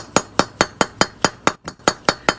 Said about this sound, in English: that's where a brass hammer is good, because you're not going to scar anything with a brass hammer. And just kind of go around and tap